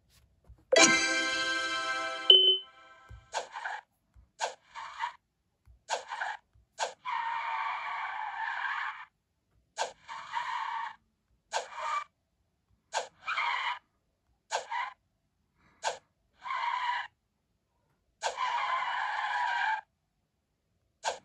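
Car tires skid and squeal in a mobile driving game while a car drifts, heard as a long series of short screeching bursts with brief gaps between them and no talking.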